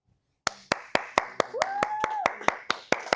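Steady hand claps at a church worship service, about a dozen sharp, evenly spaced claps in a quick rhythm, close and clear, with a sung or spoken voice rising briefly over them.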